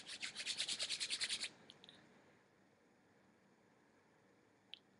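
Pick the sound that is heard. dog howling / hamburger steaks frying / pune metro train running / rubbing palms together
rubbing palms together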